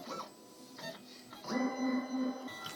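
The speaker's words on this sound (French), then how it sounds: "la machine va détecter la hauteur du matériau avant de détecter les repères d'alignement" A Silhouette Curio 2 cutting machine senses the height of the material with a whirring motor and small mechanical clicks and hums that rise into a steadier, louder drive near the end. It is close and quiet, with no voices.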